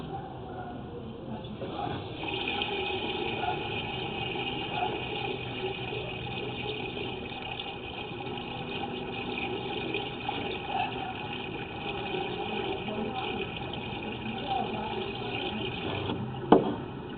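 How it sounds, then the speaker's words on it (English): Steady rushing water from a hose runs continuously at moderate volume, a constant hiss and gush with a faint mechanical hum beneath, with a brief knock near the end. "I'm gonna turn on a hose quickly"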